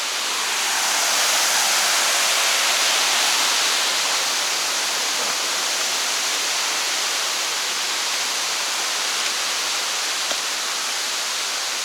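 Empress Falls in the Blue Mountains pours as a steady, broad roar of falling water, dense and hissing, holding constant throughout with no voices over it.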